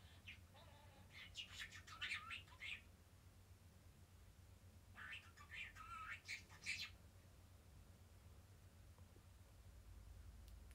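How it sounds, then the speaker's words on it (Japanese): Small birds chirping outdoors in two short bursts of bright, rapid calls, separated by a pause, over a steady low hum of background noise. "鳥の声する"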